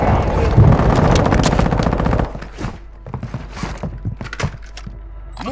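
Gunfire in the video game Call of Duty: Modern Warfare II opens with a loud, rapid automatic burst for about two seconds. Scattered single shots and thuds follow at a lower level.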